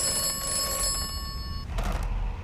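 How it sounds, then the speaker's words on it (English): A telephone rings in the video game Atomfall with a bright, electronic trill that repeats in steady bursts. It cuts off partway through, leaving low background ambience with no talking. "Phone's ringing."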